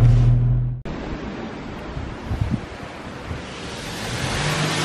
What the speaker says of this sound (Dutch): Maar nu eerst de auto wassen.